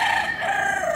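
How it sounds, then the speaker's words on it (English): A short, loud rooster crow rings out close by, a single drawn-out call. "You can see the rooster and the chicken around here."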